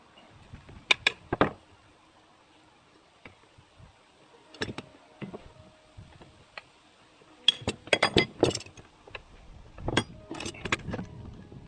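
A piston is tapped into a small 5 HP engine in a series of sharp metallic taps, sparse at first and then quick clustered knocks, close and clear against a quiet background.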